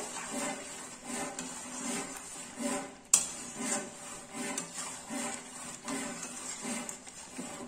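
Masala for chicken chaap is stir-fried in oil in a pan, with quiet, rhythmic scraping and stirring strokes repeating throughout and one sharper knock partway through, close and without voices.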